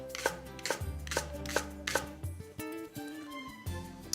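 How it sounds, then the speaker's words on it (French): A knife chops celery and leek on a cutting board in a steady run of about ten crisp, close cuts, with soft music underneath and no talking. "le céleri, on fait attention à la découpe quand même"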